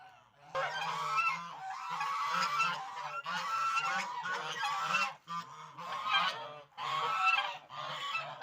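A flock of farmyard geese honks repeatedly in loud, overlapping calls, a near and continuous chorus with brief gaps, heard outdoors at a village homestead without speech.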